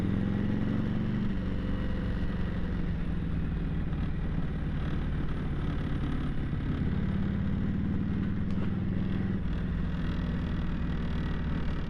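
A 1966 Harley-Davidson FLH Electra Glide Shovelhead with a first-year generator and stiffer springs runs steadily on the road, its low rumbling engine note constant and close with wind noise throughout.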